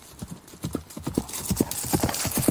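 Horse hooves clip-clop briskly at a steady trot, close and distinct, with rapid rhythmic strikes throughout a short stretch of audiobook sound effect.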